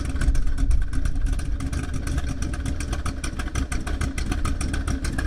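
A 1968 Pontiac engine running as the car pulls away, a steady rough rumble with rapid clattering pulses throughout, moderately loud and close, with no talking.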